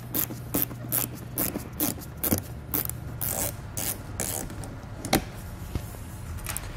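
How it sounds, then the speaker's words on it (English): A driver tool backs screws out of the edge of a wheel well liner on a 2020 Chevrolet, giving close, repeated ratcheting clicks and brief whirs with a few sharp knocks. "we're gonna pull the four screws out along the edge"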